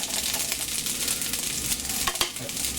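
Fried rice with bacon and eggs being stirred in a pan, a continuous close sizzle with steady scraping and clinks of the utensil throughout.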